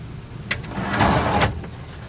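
A pocket door fitted inside a fiberglass egg camper slides along its track in one short rolling swipe with a light knock at the start, close and moderately loud.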